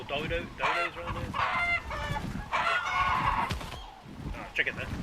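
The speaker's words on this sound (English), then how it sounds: "Oh, chicken there." A chicken in the video game Ark clucks and squawks in busy bursts, fairly loud and near, with a rooster-like crow in places and other game sounds around it.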